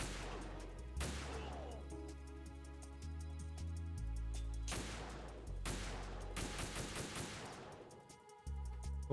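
Gunfire in Metal Gear Solid 2 rings out in quiet, repeated bursts of rapid shots, with a few louder volleys separated by brief lulls.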